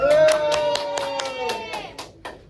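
Children in a classroom clap for the first group, a burst of scattered, uneven claps, loud at first and then thinning out, with voices over the top.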